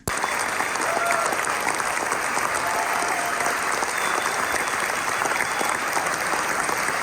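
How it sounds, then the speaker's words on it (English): Sustained, dense applause from a large audience giving a standing ovation at the Cannes film festival, steady and loud throughout with no break. "I got to take part in what Variety tells me was a 12-minute standing ovation, the biggest one of the entire festival"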